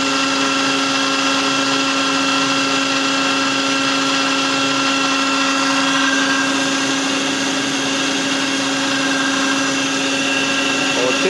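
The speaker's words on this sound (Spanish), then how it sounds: "y activó otra vez el ventilador" The cooling fan of a FIAC New Silver air compressor with a faulty cooling system runs in a steady, loud whir with a constant tonal hum for the whole stretch, alone with no talking.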